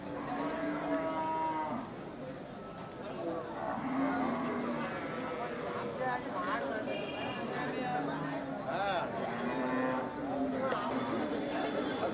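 Native cattle low and moo repeatedly at the Melapalayam cattle market, their calls rising over a steady bustle of crowd chatter and nearby talking.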